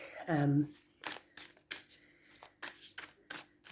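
Tarot cards overhand-shuffled by hand in a quick series of crisp, papery bursts, close up, after a brief vocal sound at the start.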